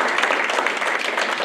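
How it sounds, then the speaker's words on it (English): Applause from the audience for elected officials at a spring legislative breakfast hosted by a chamber of commerce, a dense, even wash of many hands clapping together throughout the short stretch, with no voices over it. "Let us give our elected officials a round of applause."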